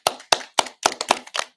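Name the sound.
round of applause for Odyssey of the Mind team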